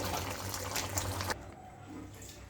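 Cooked jackfruit and prawn curry is poured from the cooking pot into another pot, a thick wet splashing and sloshing that cuts off abruptly, followed by softer faint scraping.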